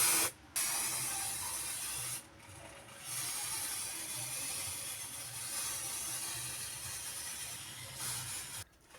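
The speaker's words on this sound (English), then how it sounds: "So let's spray this part too." Black spray paint hissing onto cardboard in close, steady bursts, two long sprays broken by brief pauses and a final short stop, no voices.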